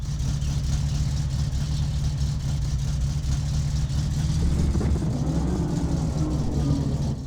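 A car engine idles with a steady low rumble in the My Summer Car driving game, then rises briefly as it's revved near the end, loud and continuous with no talking.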